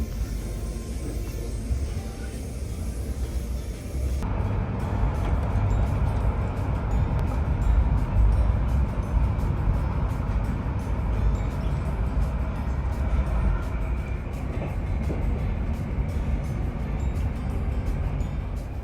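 A steady, continuous rumble of a moving ScotRail train running non-stop toward Haymarket, Edinburgh, low and droning, with faint rattles running through it and no voices.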